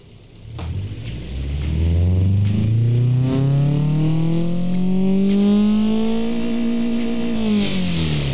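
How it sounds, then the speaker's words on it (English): A sports car engine in the BeamNG game, sounding like a Subaru-style boxer, revs up from idle into a loud, rising drone that holds high, then eases slightly, heard alone and close. "let's see how this engine runs"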